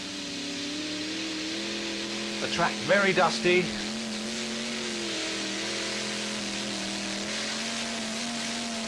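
The Fox Team Larsen pulling tractor runs through its competition pull on a dusty track, a sustained droning engine roar with steady tonal harmonics, while an announcer briefly speaks over it midway.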